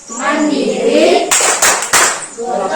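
Children chant in a classroom, then break into a few short rhythmic bursts of hand clapping before their voices return.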